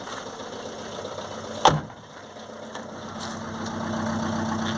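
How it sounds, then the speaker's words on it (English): Ford Transit Connect 1.8 TDCi diesel engine idling while not running on all cylinders, a low uneven drone with a sharp clank partway through, close by, then settling into a steadier hum. "It's not running on all cylinders."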